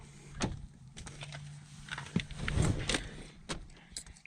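A key turns in the driver's side door lock of a Nissan with a dead key fob, giving a series of quiet mechanical clicks and small rattles, close and faint.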